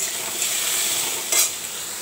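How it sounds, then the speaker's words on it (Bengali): Mango chutney with five-spice tempering, turmeric and salt being stirred in a pan, a steady broadband sizzle with a brief louder scrape of the spoon midway. "এবার নাড়ব"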